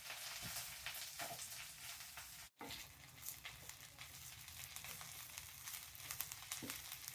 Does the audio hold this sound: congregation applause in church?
no